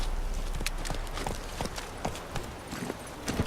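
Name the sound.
horse hooves galloping in The Witcher 3 video game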